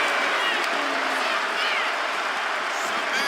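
Crowd noise from a WWE 2K25 wrestling video game match, a dense, steady roar of cheering arena fans filling the whole stretch at constant loudness, with faint commentary-like talk beneath.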